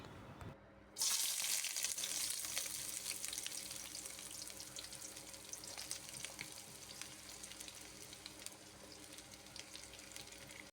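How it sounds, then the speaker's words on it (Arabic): A large batch of onions in oil in a wok, stirred while caramelizing: a sudden loud hiss as they drop in, then a steady close sizzle that slowly eases, with no talking. "وهفضل اقلب في البصل كده زي ما انتوا شايفين عشان ما يتحرقش"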